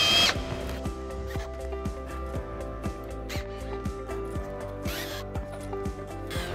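A power drill drives 2.5-inch screws into the wooden base of a farmhouse bench, with repeated short whirring bursts rising in pitch, each ending abruptly, close and moderately loud with no speech.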